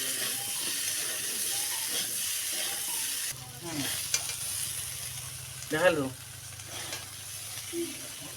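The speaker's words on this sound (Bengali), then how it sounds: "এবার সেদ্ধ করে রাখা আলু পরিমাণ মতো নুন হলুদ দিয়ে লালচে করে ভেজে নেব।" Boiled potatoes fry in oil with salt and turmeric in a pan, giving a steady sizzle throughout with a few louder stirring scrapes and spatters midway.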